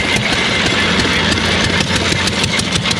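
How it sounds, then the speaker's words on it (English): A 1920 prototype tractor engine runs steadily at close range, with a loud, continuous mechanical rumble and rapid rhythmic firing pulses throughout. "This is basically a 1920 prototype tractor."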